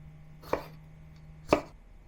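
A knife chopping a tomato into small wedges on a board, two distinct crisp cuts about a second apart, close and clear against a quiet background.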